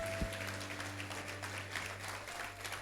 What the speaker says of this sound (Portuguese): Uma salva de palmas para eles em nome de Jesus.